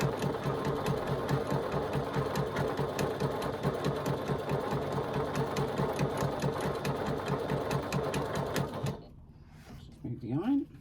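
A sewing machine hums and clatters in rapid, even rhythm while top stitching a quarter-inch line, running steadily for about nine seconds before halting, followed by a brief rustle.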